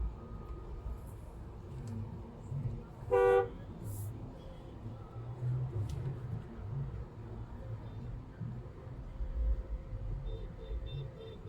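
A car horn gives one short, sharp honk on a roadside, cutting through a low, steady hum of traffic and engine noise.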